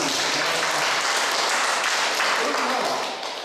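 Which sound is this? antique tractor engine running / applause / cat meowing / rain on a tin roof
applause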